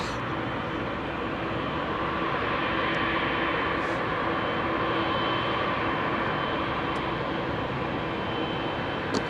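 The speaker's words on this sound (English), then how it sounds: "A340-300 with Lufthansa" A Lufthansa Airbus A340-300 jet roars loudly and steadily on departure from runway 27R at London Heathrow, a broad sustained engine rumble with no voices.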